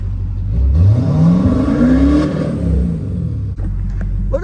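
A 6.7 truck engine turns over and revs up, its pitch rising and falling in a loud, close roar before settling to a rumbling idle.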